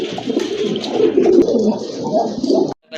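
Round-bodied pigeons coo close by in a dense, throaty chorus of overlapping low calls, steady for a few seconds before a sudden cut.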